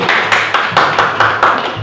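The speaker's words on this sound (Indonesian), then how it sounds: "Tepuk tangan buat Bu Eni sekali lagi." A group claps for a teacher at a school leadership session, a brisk, dense burst of close hand claps filling a short stretch with no voices.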